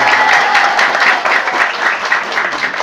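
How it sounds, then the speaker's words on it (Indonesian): Applause for the village head at a Sundanese religious gathering at an Islamic boarding school in Garut, a loud, dense burst of crowd clapping filling the whole clip. "Tepuk tangan untuk Bapak Lurah."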